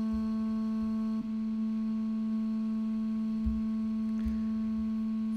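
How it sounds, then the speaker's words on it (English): A single steady clarinet note held for the whole stretch, bright and unchanging, with a few soft low thumps beneath it. "Here's the original clarinet sound."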